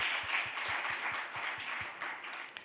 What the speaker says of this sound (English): let's give a round of applause to those incredible people